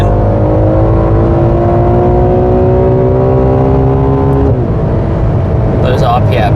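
A Ferrari 12Cilindri V12 pulls hard on the German Autobahn, its engine note climbing steadily through the revs in a loud, continuous wail before a gear change drops the pitch, with wind and road roar throughout.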